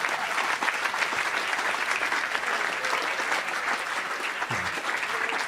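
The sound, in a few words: applause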